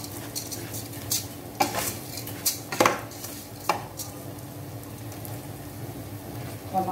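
A utensil stirs rice with pepper in a pot, scraping and clinking against the metal in several distinct strokes over a faint steady sizzle, heard close up without talk.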